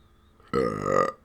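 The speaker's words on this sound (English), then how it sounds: "I'm going to burp again." A single loud, drawn-out burp from a person who has been drinking Pepsi, rising sharply, holding for about half a second and then cutting off, heard close and alone.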